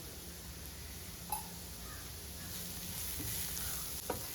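Cabbage and other vegetables sautéing with salt in a pan for a Kerala-style stuffed pathiri filling give a faint, steady sizzle with a few soft stirring clicks and no talk.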